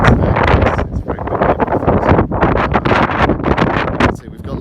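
Heavy wind buffets a microphone at Papamoa Beach, New Zealand, a loud continuous roar of gusty rumble and crackle with no break.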